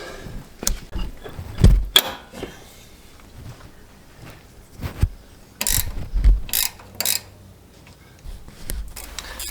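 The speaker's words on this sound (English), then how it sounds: "As I'm finishing up tightening everything and putting the tires back on" Intermittent ratchet clicks and metallic clunks from tightening bolts on a Synergy track bar brace, in short bursts separated by quiet gaps, close by, no talking.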